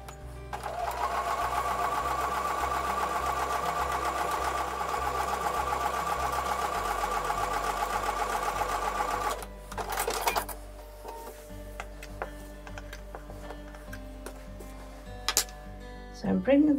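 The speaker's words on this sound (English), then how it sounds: "I'm going to take those over to the sewing machine and sew with a 1/4-inch seam." A sewing machine stitches quilt block pieces with a 1/4-inch seam, running steadily and close for about nine seconds before stopping, followed by sparse clicks and handling noises.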